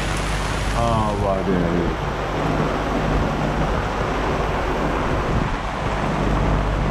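Heavy rain pours over a sailboat at sea in a dense, constant roar of hiss and spatter, with wind and water noise beneath and a brief voice near the start.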